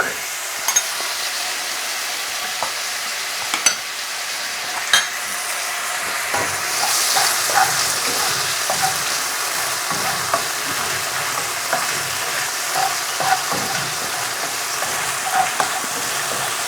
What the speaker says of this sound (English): in a hot wok, and then we're just going to place the prawns in